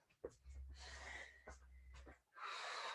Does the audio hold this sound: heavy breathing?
yes